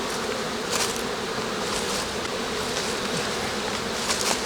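Honey bees buzz steadily around an opened hive, making a dense, continuous hum close to the listener with no voices present.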